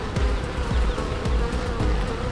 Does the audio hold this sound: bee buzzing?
yes